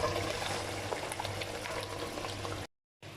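Spinach and fried egg curry (anda palak) bubbling in a pan, a steady close simmer with soft popping that runs evenly and then cuts out briefly near the end.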